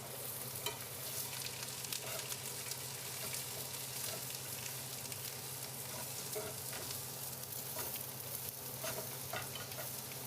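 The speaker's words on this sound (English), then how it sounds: "stir for 2-ish minutes" Filipino food frying and sizzling in a pan while being stirred, a steady close crackle with scraping strokes running throughout and no talk.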